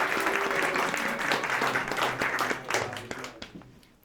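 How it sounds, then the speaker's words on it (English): Audience applause at a chamber orchestra concert, a dense crowd clapping that holds steady and then thins and fades out toward the end, heard alone without talk. "Yeah, give a round of applause."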